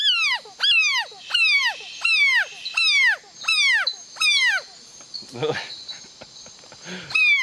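Mountain chicken frog in Trinidad giving its defensive distress call, a loud close series of seven rising-then-falling whooping screams in steady rhythm, then a brief rustle and one more scream.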